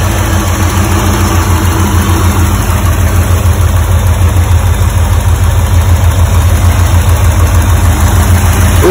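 A Porsche 928 engine idles steadily right after being fired up following long storage and fuel pump and filter work, a loud, close, continuous low rumble with an even throb and no voices over it.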